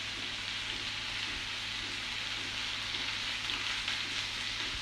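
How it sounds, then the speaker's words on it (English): Paneer, tomatoes and vegetables fry in oil with a steady, soft sizzle that holds constant and fairly quiet throughout, with no speech. "we need to add all the vegetables once the paneer and tomatoes are fried enough"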